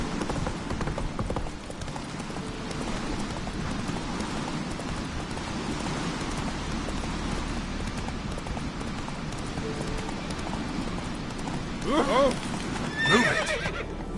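Geralt's horse Roach clip-clops steadily at a trot in the Witcher 3 video game, with rain falling, voices talking over it, and a sharp neigh near the end.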